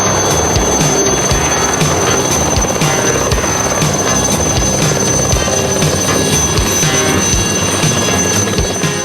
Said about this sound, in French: L'Alouette de Martignoni allait reprendre son vol